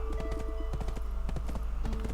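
Horse hooves clip-clop in quick, steady rhythm as a mount is ridden in Black Desert Online, close and clear over a low continuous game hum.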